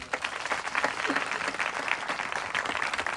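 A church congregation claps in sustained, dense applause for a few seconds, fairly loud and steady throughout, with no voices over it.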